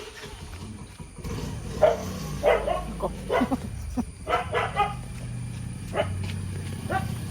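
A dog barks repeatedly outdoors in a morning yard, sharp yelps spaced across several seconds over steady background noise, with a brief spoken word in between.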